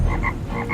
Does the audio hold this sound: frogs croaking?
yes